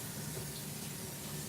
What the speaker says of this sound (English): I'm just putting the water in the pot